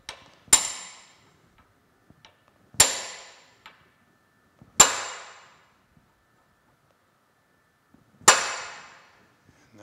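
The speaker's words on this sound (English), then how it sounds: "Let me get a hammer and punch and tap that in place." A hammer drives a punch to tap a tapered pin into place while reassembling the saddle of a horizontal boring mill: four sharp, ringing metallic strikes spaced a couple of seconds apart, close and alone in a quiet shop.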